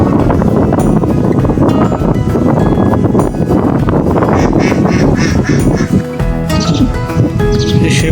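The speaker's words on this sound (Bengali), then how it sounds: "এখানে হাঁসের খামার" Many ducks at an outdoor duck farm quack loudly and continuously, close to the microphone, amid strong wind buffeting.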